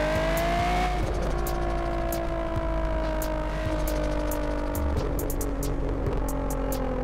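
A car driven in the racing game Assetto Corsa on a Japanese city map, a steady loud engine drone with shifting pitch as it revs and changes gear, plus occasional faint ticks, continuous and near, no talking.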